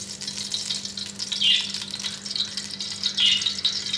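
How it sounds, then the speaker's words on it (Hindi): Half a cup of ghee hits a hot cooking pot, giving a steady close sizzle with bursts of brighter crackling spitting that rise and fall throughout. "अब इसमें हम आधा कप घी डालेंगे।"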